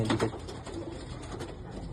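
A pigeon coos close by in a short burst, with soft background noise and no speech.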